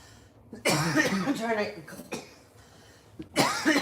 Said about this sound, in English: I'm trying to cough.